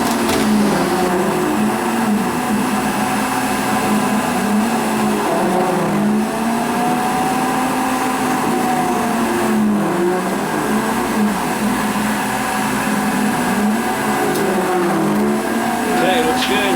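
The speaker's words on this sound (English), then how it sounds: "we're going to finish it with a 4-flute 3/8 inch end mill" A milling machine with a 4-flute 3/8 inch end mill cutting a bearing seat, a steady loud whine with rhythmic rising and falling tones as the cutter works, continuous and close.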